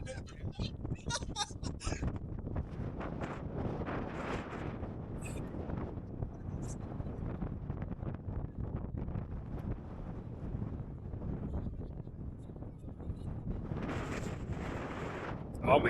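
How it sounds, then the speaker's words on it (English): Strong coastal wind at Agadir Oufella buffets the microphone in a constant loud roaring rumble with gusty swells, while voices speak faintly beneath it. "Oh my god, it's so windy."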